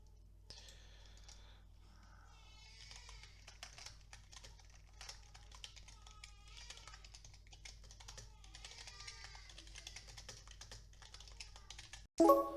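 Rapid typing on a computer keyboard, a dense run of soft close key clicks that continues steadily, ending in a louder clack.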